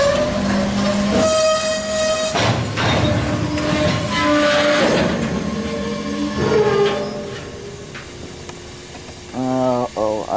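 A CSX Q416 mixed freight train rumbles past loudly and up close, its horn sounding in long tones and clattering over the rails, while voices talk over it.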